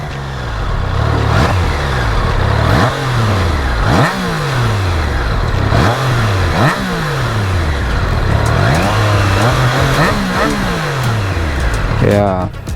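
A Triumph Trident 660 motorcycle engine is revved again and again, each loud blip climbing and then falling back, at close range, with some talking in the background.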